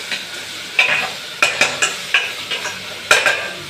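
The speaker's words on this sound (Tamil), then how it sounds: "நல்லா வதங்கிடுச்சு." A spoon scrapes and stirs ingredients sautéing in a pan, a series of sharp, close strokes in an irregular rhythm over a soft, steady sizzle.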